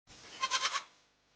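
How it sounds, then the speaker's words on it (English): A single goat bleats once, a short wavering call with three or four quick pulses, clear and close with nothing else around it. "This is goat."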